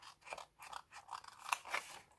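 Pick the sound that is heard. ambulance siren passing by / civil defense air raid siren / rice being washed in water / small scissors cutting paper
small scissors cutting paper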